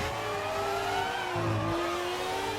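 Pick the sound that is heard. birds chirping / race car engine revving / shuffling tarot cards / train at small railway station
race car engine revving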